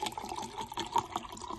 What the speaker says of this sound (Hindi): मैंने कोसा किया था पानी, वो मैं इस गिलास में डाल दूंगी।